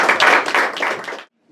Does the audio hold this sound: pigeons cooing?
no